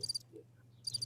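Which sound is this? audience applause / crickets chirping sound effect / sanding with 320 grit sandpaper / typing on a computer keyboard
crickets chirping sound effect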